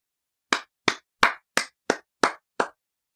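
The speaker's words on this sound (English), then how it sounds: "BC starts clapping, leading the group to join in his applause." Seven crisp, evenly spaced hand claps ring out one after another against silence in a radio drama scene, sharp and close, like someone starting applause for a newly named governor.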